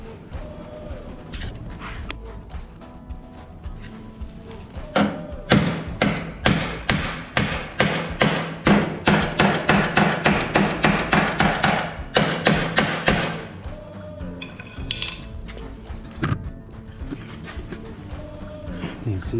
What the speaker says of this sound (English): So I'm just going to get my body hammer. I'm just going to shape those down a little bit